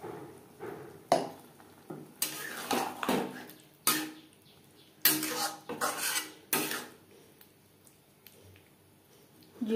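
A spatula stirs capsicum curry in a pan over medium flame, producing loud, close metallic scrapes and clinks in irregular bursts separated by short quiet gaps.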